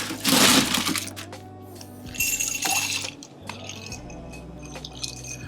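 Ice clinks and rattles against glass as a martini is stirred, a run of sharp, light ticks and cracks heard close over soft background music.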